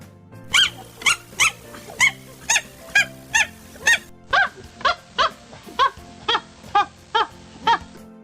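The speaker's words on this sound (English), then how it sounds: "D for dog." Dog barking in a children's phonics song, a regular series of about fourteen sharp, evenly spaced barks over a quiet musical backing, the pitch shifting lower partway through.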